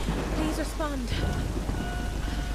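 Steady rain falling in the Tomb Raider video game, a constant wash of drops under game music tones.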